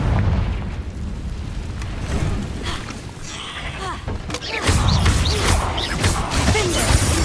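Confringo blasting curses explode in Hogwarts Legacy inside a cave, a series of booming bursts and crackling impacts that build louder toward the end over busy combat noise.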